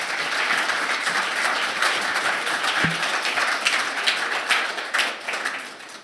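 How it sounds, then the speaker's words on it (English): Conference audience applause at the FORGE 2024 summit for a team presenting an AI agents demo: a continuous patter of many clapping hands, fairly even throughout and tapering off at the very end. "Massive round of applause"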